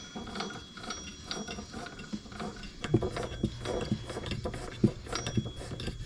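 A screw is tightened into a VIVO desk mount, giving irregular ratcheting clicks and metallic ticks close by, with some louder knocks partway through.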